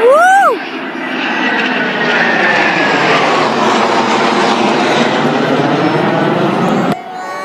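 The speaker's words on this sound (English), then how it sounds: "This is a typhoon." Eurofighter Typhoon military jet passing overhead at a NATO summit, a loud sustained roar with a Doppler sweep that holds steady for several seconds before dropping off abruptly, with cheering voices at the start.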